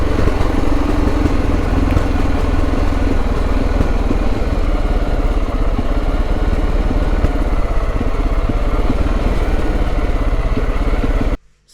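A motorcycle engine runs loud and steady, close by, along a coastal road on the Mediterranean in Turkey. The dense drone holds without a break for nearly twelve seconds, then cuts off abruptly at the very end.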